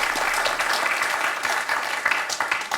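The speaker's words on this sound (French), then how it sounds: "pour Jean, qu'on applaudit, qu'on encourage, Jean, comme Martine, comme Michel." Studio audience at a French television quiz show applauding a contestant: dense, steady clapping filling the whole moment at a fairly loud level, with no talk over it.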